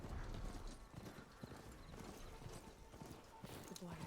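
Horse hooves clip-clop on the ground in Horizon Forbidden West, a soft rhythmic trot mixed into busy game background noise, faint and somewhat masked throughout.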